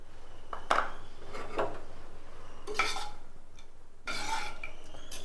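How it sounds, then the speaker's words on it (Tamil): A spoon stirs thick coconut milk into a pot of cooled paruppu kootu made with drumsticks, giving a few separate scraping, rubbing strokes against the pot, near and moderately loud with quiet gaps between. "சேர்த்து இதை நல்லா ஃபுல்லாக மிக்ஸ் பண்ணிவிட்டு"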